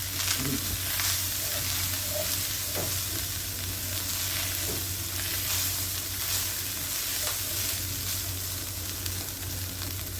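A cheese-stuffed beef patty, unseasoned and cooked without grease, sizzles in a skillet with a loud, dense, continuous frying hiss and faint crackles throughout.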